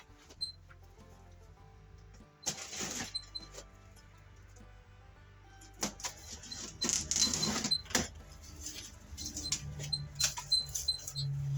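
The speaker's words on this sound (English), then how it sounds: "we have to get everything out of the box, so let's get it out of the box and see what comes with this." Cardboard and plastic packing rustle and clink as a Vevor airless paint sprayer and its parts are lifted out of the box, in scattered bursts of crinkling and handling noise close by, with no talk.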